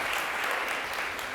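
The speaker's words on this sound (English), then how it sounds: "Please clap for the R2D2." A conference audience gives an R2D2 a brief round of applause, steady massed clapping that sounds fairly faint and distant.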